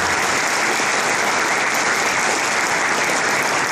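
A political assembly audience applauds the party's council members with dense, steady clapping that holds evenly throughout, loud and continuous with no voices over it.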